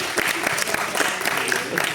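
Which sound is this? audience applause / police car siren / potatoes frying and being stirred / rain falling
audience applause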